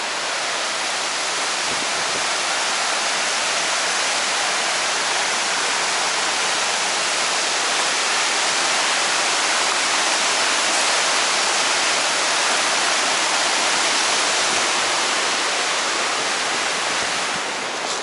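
A continuous roar of a waterfall where a creek meets Lake Fontana on the Appalachian Trail near the Nantahala Outdoor Center, broad and steady without pause, close and loud.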